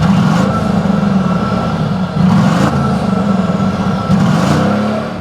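The twin-turbo V8 of a 2013 Mercedes-Benz GL550 SUV idles with a deep, steady rumble after starting, close and loud, with slight pulses in revs and no talking.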